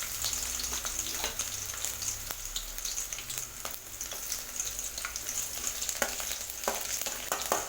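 Red chili, green chilies and chopped garlic fry in hot oil with a steady, close crackling sizzle, punctuated by light spoon scrapes and taps against the pan.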